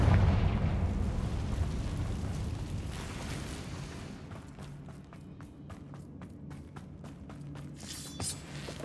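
Explosive Bombarda and Confringo spells going off in the Hogwarts Legacy game: a heavy rumbling blast that slowly fades, followed by crackling debris and clatter, then a brief fresh burst near the end.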